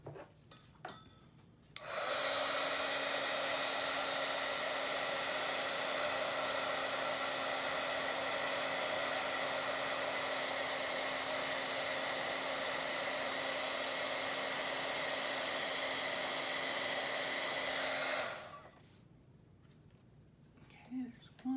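A heat tool blasts over craft supplies on a Bible journal page, a loud continuous whooshing drone that starts abruptly, holds steady for about sixteen seconds, then cuts off, with quiet sounds either side.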